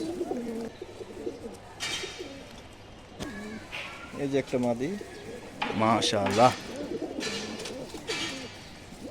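Several pigeons coo in short, throaty phrases in a loft with a female bird nearby, while someone talks intermittently over and between the calls.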